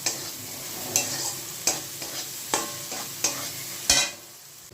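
A ground spice mix for a yogurt-eggplant dish being fried and stirred in a pan: a quiet continuous sizzle broken by sharp, regular spatula scrapes roughly every second, close by with no talking.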